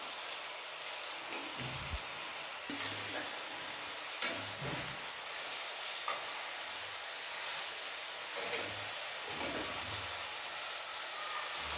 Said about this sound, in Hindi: ये इतनी सी फ्लेम पे मैं इसको पका रही हूँ इनको कबाबों को